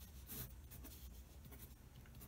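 A pen scratches across a sheet of paper in short, soft strokes as an equation is written out, quiet and close with no talking.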